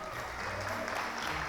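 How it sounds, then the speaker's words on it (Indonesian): A church congregation at a GPdI Bintan Center Christmas service claps together, a brief, dense burst of applause filling the hall. "Tepuk tangan dong yang nomor 1."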